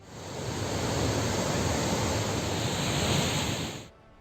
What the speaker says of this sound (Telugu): శ్రీశైలం ప్రాజెక్టు 3 గేట్లు ఎత్తడంతో కృష్ణమ్మ పరవళ్లు తొక్కింది.